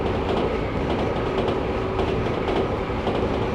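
A train running on rails in the Densha de GO! Final video game, a steady loud rolling rumble with a faint rhythmic clickety-clack of wheels and a sustained tonal hum.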